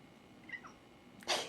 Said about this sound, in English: my cat's right here to make me feel better